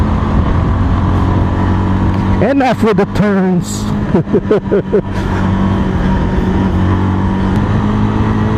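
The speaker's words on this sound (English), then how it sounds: "when you're riding a cruiser, you should be cruising. So let's just cruise for a moment." A Kawasaki Bajaj Avenger 220 single-cylinder cruiser motorcycle rides along at a steady pace, its engine a loud, constant drone with wind noise, while a rider talks over it.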